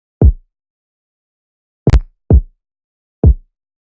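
Four isolated kick drum hits, deep and punchy with quick decay, the first alone, then three spaced apart with a quick double thump near the middle.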